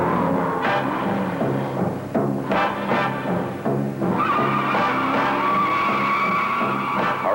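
A car accelerates hard from standstill on a 0-to-60 run with plenty of wheel spin, a loud, close engine roar rising through the gears, with a steady squealing whine building over the last few seconds.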